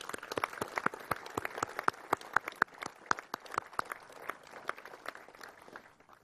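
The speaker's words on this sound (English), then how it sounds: "let's give them a round of applause" Crowd applause for ceremony staff and troops at a military change of command, sharp, distinct claps sustained throughout at a moderate distance.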